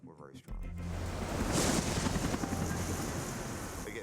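Strong wind roars over a rough, churning sea, a steady buffeting rush with wind noise on the microphone that swells midway, while a voice talks beneath it.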